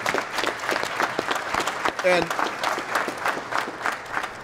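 Steady applause from a crowd at a brewery ribbon-cutting ceremony, dense clapping that carries on throughout, with a voice briefly speaking over it.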